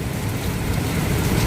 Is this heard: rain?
yes